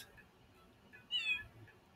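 Cat in the Little Kitty, Big City game trailer gives one short, high meow, faint and brief, over quiet background.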